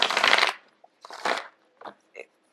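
Tarot cards are shuffled in quick bursts, a loud crisp riffle first, then a second riffle and a few shorter papery flicks separated by silence.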